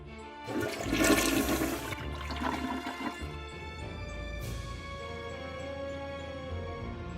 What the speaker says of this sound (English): Karen flushed Russell's phone down the toilet?